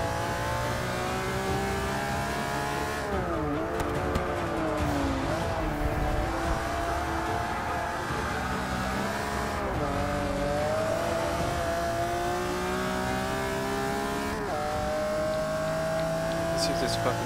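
A 2016 Mercedes-AMG C 63 S Coupé racing in Forza 6, its engine droning and revving continuously, pitch rising through gears and dipping at shifts and braking, loud and steady throughout with a voice speaking over it at times.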